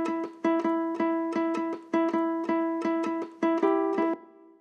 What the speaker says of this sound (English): So the harmony, the two notes together sound like this.